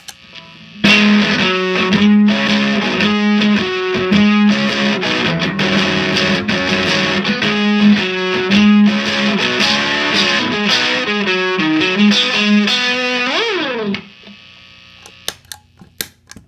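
A distorted electric guitar through a boost pedal and Tube Screamer overdrive plays a chunky, driven riff with sustained chords and quick picked notes, then stops and leaves a faint hum.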